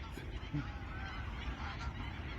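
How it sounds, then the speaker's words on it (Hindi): Bar-headed geese, a species that breeds in Ladakh, honk in a noisy wetland setting at Surajpur. The calls are a faint scatter of honks blended into a dense, hissing background. "और पीछे जो है बार हेडेड गीस, राजहंस, जो हमारे लद्दाख में ब्रीड करते हैं"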